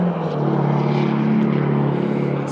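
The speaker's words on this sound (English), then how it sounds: "Sorry about the road noise." Steady, loud road noise inside a moving 2004 Ford F-350 pickup truck, a continuous low rumble and broadband hum filling the cab without pauses or talk.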